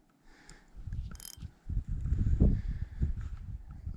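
Fishing reel drag being loosened while bass fishing from the bank, a close mechanical clicking and ratcheting with rough handling noise that runs for several seconds.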